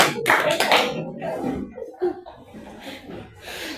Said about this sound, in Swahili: Tupe makofi mazuri.